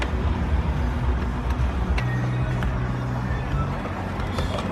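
Power window motors on a BMW M5 raise the windows, the slower side sounding weaker: a steady low electric motor whine under a muffled interior hum, continuous and fairly close.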